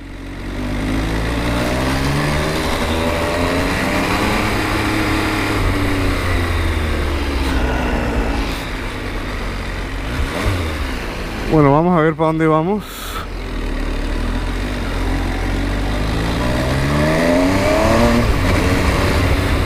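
A 2018 MV Agusta Dragster 800RR, an 800 cc three-cylinder naked motorcycle, drones steadily while ridden, its engine note rising and falling through throttle changes with a quick sweeping rev burst midway, and a rider speaks over it.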